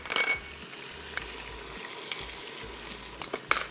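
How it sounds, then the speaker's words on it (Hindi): A fresh garlic, ginger and green chilli paste fries in a pan with a steady low sizzle, broken by a few light stirring scrapes and clinks near the start and end. "अच्छे से इसको भूनना है।"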